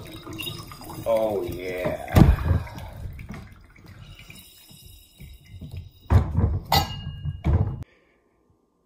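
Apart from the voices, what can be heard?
juicing a grapefruit with a hand juicer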